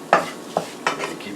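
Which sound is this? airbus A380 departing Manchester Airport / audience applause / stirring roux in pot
stirring roux in pot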